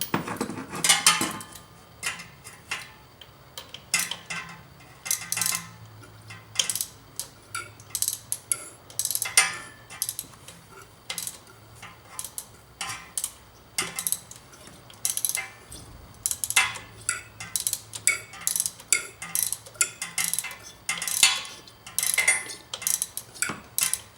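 A 13 mm wrench turning the main shaft of a 2001 Dodge Ram 1500 A/C compressor with the clutch disengaged, giving repeated close, sharp metallic ratchet clicks in uneven bursts.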